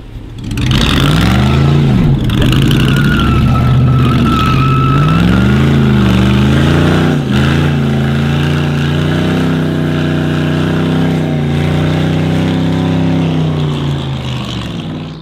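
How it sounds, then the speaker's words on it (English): A small car's engine revs hard and holds a loud, sustained roar during a burnout, its pitch rising and dipping before settling into a steady high drone, close and with no talk. "Do a burnout."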